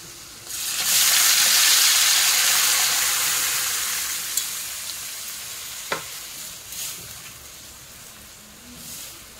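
A loud burst of sizzling as cooked lentils hit a hot tempering with asafoetida, gradually settling into a softer crackle with a few small clinks.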